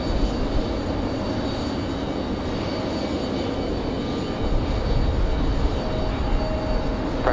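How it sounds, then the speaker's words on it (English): Lufthansa 408, a heavy airliner, landing at Raleigh Durham airport: a loud, continuous broadband engine roar that stays steady and close throughout. "Bit wobbly there on approach, but absolutely smooth touchdown."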